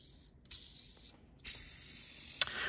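A custom bit driver fitted with black ceramic ball bearings spins in short bursts, giving a soft, airy whirring hiss that stops, restarts and grows slightly louder, heard up close and without talk.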